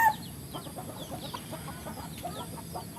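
Free-range village chickens on a traditional farm cluck in short, repeated calls with a few higher squawks, fairly close and moderate in volume, over a quiet outdoor background.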